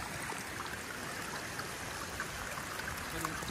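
Pure spring water in a Guatemalan landscape flows in a steady, continuous rush close by, a broad babbling wash with no breaks or pauses.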